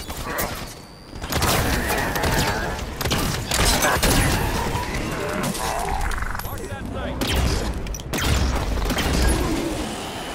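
Sustained gunfire rattles through a Halo 5 battle against Prometheans, with dense bursts and thuds continuing for most of the stretch after a brief lull near the start; voices are heard among the shots.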